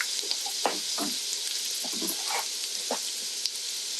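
Onions sizzle in hot grease in a pan, a constant crackling fry with short scraping stirs, moderately loud and close with no talking.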